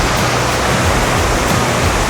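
Rushing water from a river and the Coban Sri Kandi waterfall, a steady, dense roar of falling water close by that fills the whole moment without a break or any voices.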